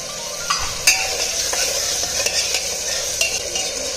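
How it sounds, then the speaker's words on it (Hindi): Masala sizzles in a pan for a drumstick curry as tomato is added, with steady frying hiss and several sharp clicks of a spoon stirring against the pan, no voices. "मसाला भुन गया है और अब हम टमाटर डाल देंगे।"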